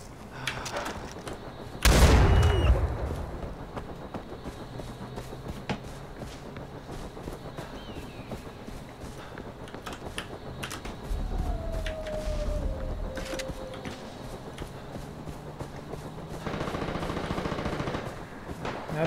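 Heavy gunfire in the game Far Cry 4: a loud close burst early on, then scattered shots and rattling fire over a steady background, with a rising whine partway through.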